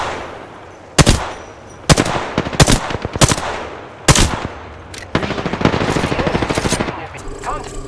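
Rapid automatic gunfire from the video game Apex Legends, fired in several sharp, loud bursts separated by short pauses, ending in a longer sustained stream of shots.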